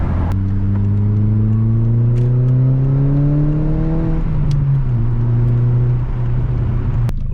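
A Volkswagen GTI 20th Anniversary Edition with its resonator deleted revs up, climbing steadily for about four seconds before dropping back and holding a lower, droning rev; loud, close and with no talking.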